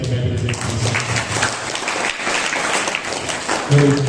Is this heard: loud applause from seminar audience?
yes